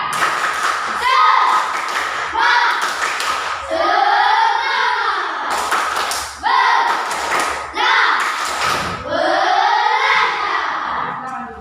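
An Indonesian primary school class stands and performs a rhythmic spirit clap, bursts of hand claps and thumps alternating with the children chanting together loudly in a close classroom.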